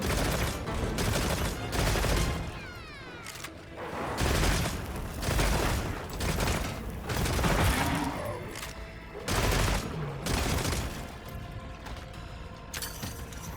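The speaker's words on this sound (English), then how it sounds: "And there's our rapid fire mode ready to go again." Dense bursts of rapid-fire shots from a weapon in the video game Monster Hunter Wilds, loud and continuous with short pauses between volleys, layered over mechanical clatter and booming impacts.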